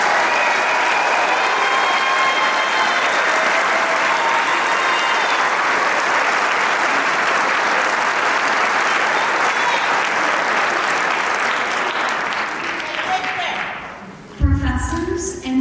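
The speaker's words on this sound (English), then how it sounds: "Let's give our graduates a big round of applause." A large crowd at a college commencement ceremony gives graduates a long, loud round of applause, steady dense clapping that slowly fades before a voice takes over.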